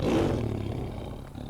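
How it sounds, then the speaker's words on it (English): Lion roar sound effect, a single loud, deep, rumbling roar that starts at full strength and slowly fades over about a second and a half, with no voices. "There's a lion in my house."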